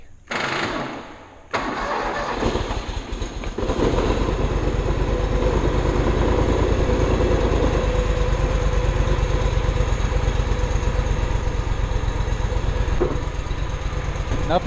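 A riding lawn mower with a five-foot deck starts on choke after a few quiet seconds, then settles into a loud, close, steady engine run with a fast rhythmic chug.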